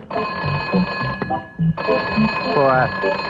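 A telephone rings with a steady electronic tone throughout, heard under someone talking loudly in French.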